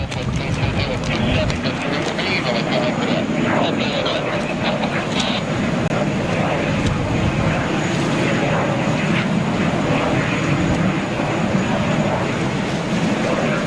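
Saudia Boeing 777-300 taxiing at an airport, a steady loud broadband jet engine roar that holds constant throughout with a faint high whine, with people talking over it.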